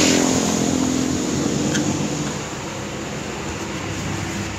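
A Honda City engine idles steadily at about 1000 RPM, a continuous close-up hum and rumble that stays even for the whole stretch with no talk over it.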